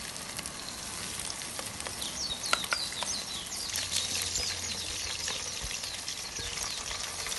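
Chicken pieces frying in oil in a kadai, a steady close bubbling sizzle with a few sharper crackles and pops throughout, no talk.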